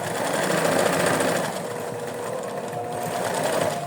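A sewing machine runs steadily, stitching the seam of a fox plush toy with a fast, continuous mechanical rattle at close range, slowing slightly midway, with no talking.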